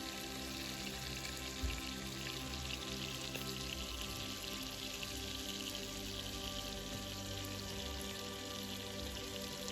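Short ribs searing and browning in a hot pan, a steady dense sizzle and crackle throughout, close and even, with no talking.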